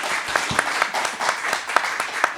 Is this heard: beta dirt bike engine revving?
no